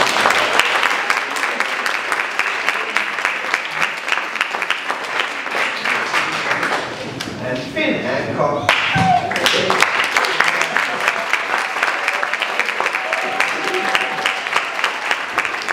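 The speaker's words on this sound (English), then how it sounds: "Can we give them a round of applause?" A school audience applauds students at a public speaking event, sustained clapping from a crowd that dips briefly midway while a voice speaks, then swells again and carries on to the end.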